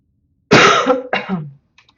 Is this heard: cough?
yes